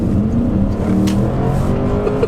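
Deep, loud throaty roar of a V8 petrol Porsche Cayenne S accelerating, heard from close range with rising engine tones and no talking over it.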